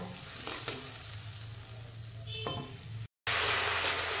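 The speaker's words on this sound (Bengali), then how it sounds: "আরো খানিকক্ষণ মশলাটা আমি কষিয়ে নেব" Spice masala with a little added water being stirred and sautéed in a pan for a cauliflower curry, giving a steady sizzle with a few scraping stirs, loud and close, with no talking.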